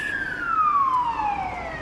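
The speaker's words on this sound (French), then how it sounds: "Ça c'est les pompiers qui viennent pour ma bibliothèque." A fire truck siren in Australia sounds one loud, clear wail that slides steadily downward in pitch as the truck passes nearby.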